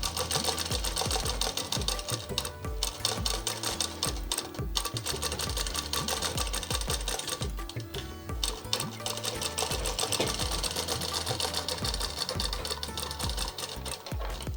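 A sewing machine runs steadily and continuously, stitching the side seam of a single-pleat girl's frock with a finishing seam, its rapid mechanical whir close and loud with no talking.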